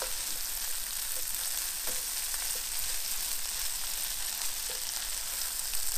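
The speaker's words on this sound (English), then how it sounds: "once this curry paste is cooked out for 2 or 3 minutes" Curry paste frying in a pan while cooking kedgeree, giving a steady, close, continuous sizzle with faint crackles and spits throughout, no talking.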